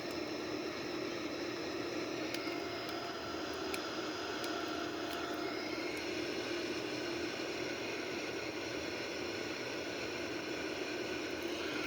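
Boeing 787 jet engines at takeoff thrust make a steady broadband roar, heard from inside the aircraft, with a few faint clicks layered over the constant noise.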